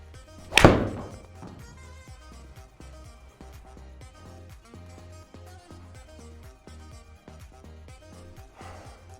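A golf ball struck as hard as possible with a 2 iron gives one sharp, loud impact near the start, then fades under quiet background music.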